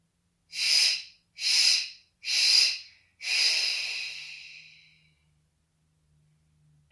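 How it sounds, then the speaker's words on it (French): Four forceful nasal exhalations during a guided breathing session, three short sharp puffs in steady rhythm followed by a longer, fading fourth, close and alone with quiet gaps between. "Donc, j'inspire par le nez."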